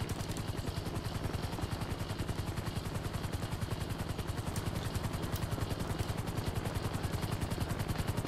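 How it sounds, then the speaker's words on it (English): A helicopter's rotor in the video game GTA 5 Online chops rapidly and steadily, loud and close, in a continuous pulsing rhythm. "Helicopter."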